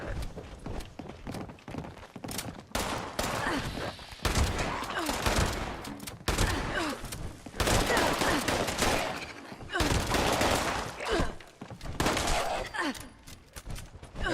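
Shotgun blasts in Fallout 76, loud repeated booming shots and dense combat noise filling the stretch, with someone talking underneath.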